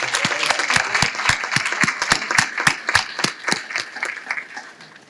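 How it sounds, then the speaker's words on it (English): Loud round of applause for a caterer at a coronation ball dinner, many hands clapping in a quick, steady rhythm of sharp claps that thin out and fade toward the end. "let's please give a loud round of applause to As Good As It Gets Catering"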